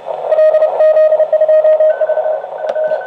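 A uSDX QRP amateur radio transceiver picks up contest signals: receiver hiss with a steady tone and faint overlapping signals drifting in and out, loud and continuous, no clear speech.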